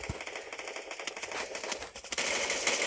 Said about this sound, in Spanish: Otra persona está disparando.